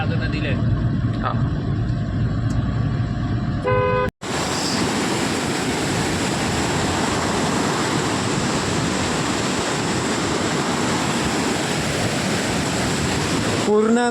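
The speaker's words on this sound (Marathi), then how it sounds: "पूर्ण नदीला पूर आलाय मित्रांनो." A river in flood rushing past during heavy rain, a dense, loud, continuous roar of water filling the scene; a brief cut early on precedes the unbroken torrent, with no voices audible.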